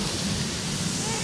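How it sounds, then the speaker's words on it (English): A tiny waterfall that children are about to wade into gives off a steady, close, broadband rush of falling water with no breaks, continuous across the whole moment. "So Ruel and Rainan are venturing into that super mini waterfall"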